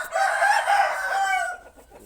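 A rooster crows loudly and close, one drawn-out call lasting well over a second that trails off, with hens audible around it on a farm.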